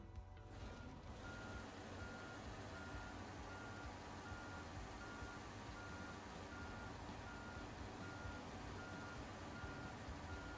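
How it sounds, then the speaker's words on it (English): Truck reversing beeper in the Snowrunner off-road driving game, a steady evenly spaced series of loud electronic beeps repeating over continuous engine rumble throughout. "Nice reversey beeper."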